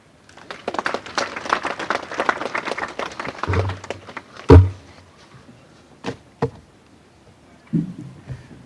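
Audience applause for the Chancellor at a Catholic University of Eastern Africa graduation ceremony: dense clapping that fades after about four seconds, followed by a loud thump and a few scattered sharp knocks.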